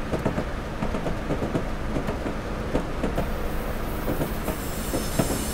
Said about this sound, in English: Lovely jointed rail sound.